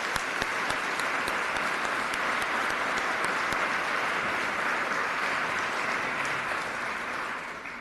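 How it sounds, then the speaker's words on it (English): Sustained applause fills a legislative assembly chamber, a dense, even wash of many hands clapping that carries on steadily throughout and fades slightly at the end. "I'd like to give you a big round of applause for all of the work that you've done."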